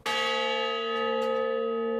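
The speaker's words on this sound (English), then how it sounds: "The honor bell rolls in and out of Fort Logan every day." A single honor bell at Fort Logan strikes once, loud and close, its rich ringing tone sustaining and slowly decaying.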